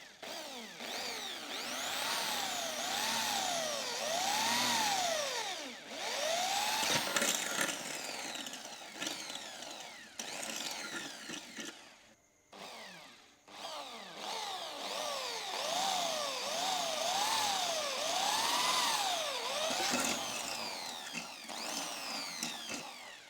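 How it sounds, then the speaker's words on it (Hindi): Power drill boring holes into a vehicle number plate, a steady whining drill with pitch that rises and falls, running for long stretches with a short pause in the middle, fairly faint. "तो अब हम हमारी जो प्लेट है उसमें ड्रिल कर सकते हैं।"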